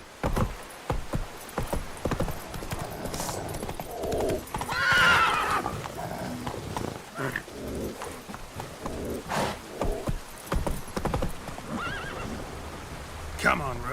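Roach the horse in The Witcher 3 neighs and whinnies loudly mid-clip over steady galloping hoofbeats, with voices talking throughout.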